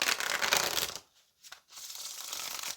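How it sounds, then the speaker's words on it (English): A deck of oracle cards is shuffled in two bursts of rapid papery riffling and rubbing, close and fairly loud, separated by a short near-silent pause. "So let's go ahead and get into a shuffle."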